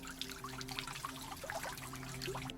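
Water is poured over a toy from a mystery box, a soft trickling and splashing that runs steadily for a couple of seconds at a quiet level.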